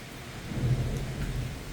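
Low thunder rumbles during a thunderstorm at Watford, a swelling roll heard mid-distance over steady rain, with no voices.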